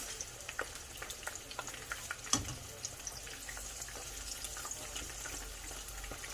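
Shrimp frying in a pan over medium heat for Thai firecracker shrimp, a quiet steady sizzle with scattered pops and crackles and one sharper clatter partway through, no talk.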